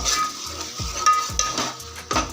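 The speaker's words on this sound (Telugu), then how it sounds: "వేసేసి ఒకసారి బాగా కలిపేసుకుందాం మరి" Masala being stirred into a fish curry in a pan, with a soft sizzle under repeated scraping and stirring strokes close by, a few light clinks of the spoon against the metal.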